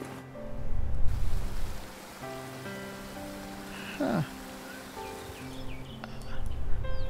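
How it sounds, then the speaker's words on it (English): Steady, rain-like ambient water sound plays through a meditation scene, with soft sustained tones and brief faint voices mixed in. "I think that was a little distracting, the water sounds."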